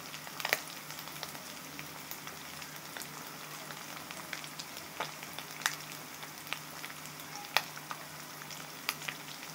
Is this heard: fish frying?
yes